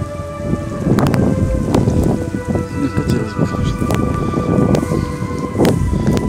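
September rain falling through a forest, a steady patter on leaves and ground close by with a few sharper drip and crackle accents; no talking.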